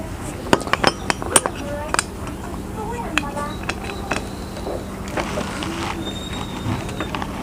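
A metal lid is set onto a cooker pot holding rice and mung beans, giving a few sharp clinks and clanks early, followed by quieter scraping and rattling handling sounds close by.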